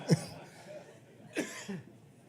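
Two short coughs, a second apart, fairly quiet in an otherwise calm room.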